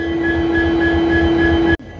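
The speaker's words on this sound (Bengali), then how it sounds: "কত বড় ট্রেন মাগো" A large train rumbles loudly past up close at a station, a steady roar with a ringing tonal hum, which cuts off abruptly near the end.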